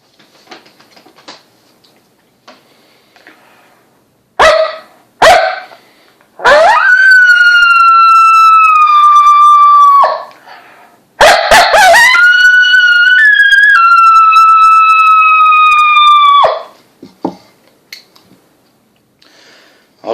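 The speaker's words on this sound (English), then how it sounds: "the young gun, which is another 2 reed call, again, tuned for a little bit more immature coyote sound." A FOXPRO Young Gun two-reed diaphragm call, tuned for a younger coyote, gives a few sharp barks followed by two long, loud wavering howls, each sliding down at the end, with a pause between them and no talk.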